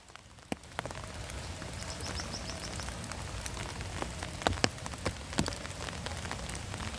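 Heavy rain pours steadily at a hillside cat feeding spot in wind, with a dense hiss broken by sharp, loud drips and splashes nearby; no one speaks.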